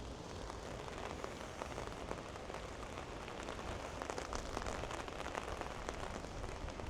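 Rain falling outdoors on the Camino Francés between Espinal and Villava, a dense, steady patter of drops on surfaces, close and even throughout with no talk.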